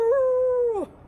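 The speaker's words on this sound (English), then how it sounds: "We're starting to howl." A single dog lets out one sustained, steady howl that bends downward and breaks off abruptly after less than a second.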